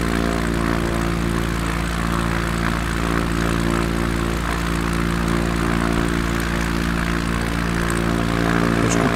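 An ERCO 415 propeller aircraft in Microsoft Flight Simulator, with a loud, steady engine and propeller drone that holds constant throughout and no voices.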